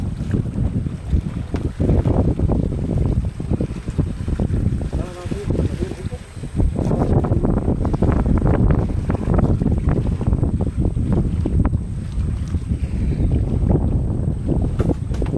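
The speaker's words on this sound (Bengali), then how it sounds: "এত হাওয়া হচ্ছে আজকে, তা কি বলবো বন্ধুদেরকে।" Strong wind buffets a small fishing boat on the Garal river during a storm, roaring steadily into the microphone with water sloshing against the hull. A brief lull comes partway through, then the gusts return as loud as before.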